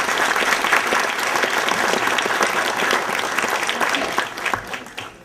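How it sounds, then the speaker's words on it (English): Graduation audience at a high school ceremony applauding together, a dense, steady wash of many hands clapping at close range that holds for several seconds and thins slightly at the end. "Give yourselves a round of applause."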